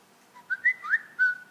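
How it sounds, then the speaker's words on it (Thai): A Samsung Galaxy Note 2 clone phone plays a short interface chime, a few bright, whistle-like tones rising and gliding in quick succession over near silence. "ตรงนี้ก็มีเสียงที่เป็นซาวเอฟเฟกก็ เป็นเหมือนของซัมซุงแท้ทุกอย่างเลยนะฮะ"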